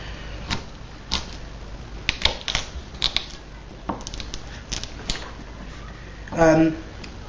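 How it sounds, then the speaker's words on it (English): A kitchen knife slices carrots lengthwise on a cutting board, giving a scattering of sharp, close taps and clicks at irregular intervals, ending in a short, louder scrape. "cut the carrot in half lengthways like this."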